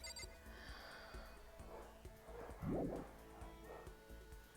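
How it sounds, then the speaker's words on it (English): Dogs at home barking and yipping faintly in the background, a short cluster of barks midway over a steady low hum, no voices. "Sorry, my dogs are barking."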